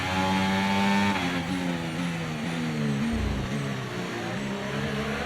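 An F1 car in the F1 24 video game, driven as Daniel Ricciardo at the Bahrain Grand Prix, screams out of a corner, its loud high-pitched engine note climbing steadily through the gears, close and continuous.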